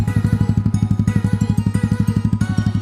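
A Honda Ruckus scooter with a carbon Yoshimura exhaust idles close by after being started, giving a loud, even, rapid thumping putter with no talking.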